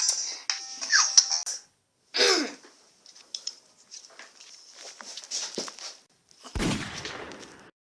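Gunfire from a first-person shooter video game: several sharp, loud shots scattered across the moment, separated by quieter clicks and game effects, with one heavy boom near the end.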